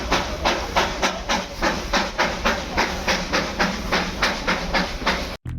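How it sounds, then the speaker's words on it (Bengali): A Darjeeling toy train steam engine pulls away at Batasia Loop, its loud, close exhaust beats chuffing in a rapid, even rhythm over a continuous hiss of steam, cutting off abruptly at the end. "এই যে ঠিক আমার পিছনে এই যে একটা স্টিম ইঞ্জিন ছেড়ে যাচ্ছে"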